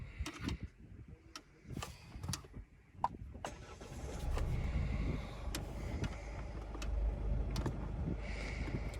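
A 2018 diesel Mercedes-Benz E-Class starts up: several sharp clicks and taps come first, then a steady low engine rumble settles in and holds at a moderate level.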